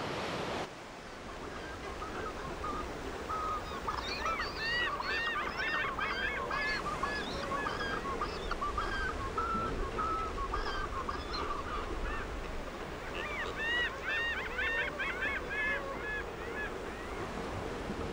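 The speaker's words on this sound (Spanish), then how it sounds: "La proximidad del Océano Pacífico y los numerosos lagos atraen a las aves acuáticas de la región patagónica, que forman ruidosas y nutridas colonias" A noisy colony of Patagonian waterbirds near lakes in Torres del Paine park calls in bursts of honking cries, moderately distant, over a steady wind-like rush with no talking.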